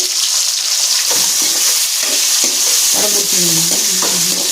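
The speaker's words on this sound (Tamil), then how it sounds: "வெங்காயத்தை நல்லா வதங்க விட்டு" Onions sautéing in a pan for a dried fish and raw papaya curry give a loud, continuous close-up sizzle with occasional stirring scrapes throughout.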